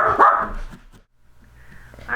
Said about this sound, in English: Dogs are gonna bark.